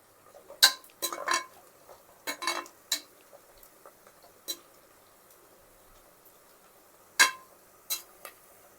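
Vegetable soya biryani masala stirred in a pan, a spoon clinking against the metal in scattered quick taps with quiet gaps between, fairly faint.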